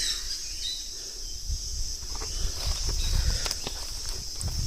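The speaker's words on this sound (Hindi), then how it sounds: "इससे पता लगता है यहाँ पे कितनी सारी चिड़ियाँ हैं।" Many birds chirp and tweet in the distance, high and continuous, over soft outdoor rustling and a few scuffing footsteps.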